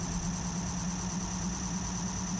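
Car engine in the BeamNG.drive video game running at high, steady revs, a constant loud drone with a buzzing, vibrating tone throughout.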